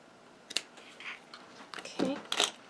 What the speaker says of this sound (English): Snip these pieces off.